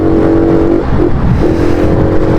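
A motorcycle engine runs loud and close, its steady idle rising into a brief rev and settling again.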